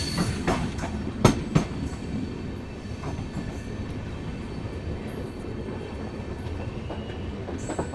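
An Amrit Bharat Express train pulls into Gomti Nagar railway station in Lucknow, with a few sharp clanks early on over a continuous rumbling roll of wheels and carriages, loud and close.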